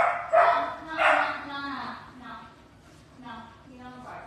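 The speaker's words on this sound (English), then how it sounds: "You don't bark." A dog barks in a grooming setting, two sharp yips up front followed by softer whiny barks, close and fairly loud, with a person's voice mixed in.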